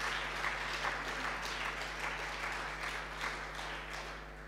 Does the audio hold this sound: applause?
yes